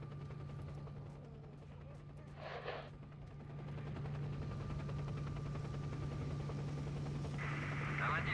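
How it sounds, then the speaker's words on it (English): A video game helicopter drones steadily through the whole stretch, a constant rotor hum beneath bursts of in-game noise and a brief hiss, holding fairly even and growing slightly louder toward the end. "That's a helicopter."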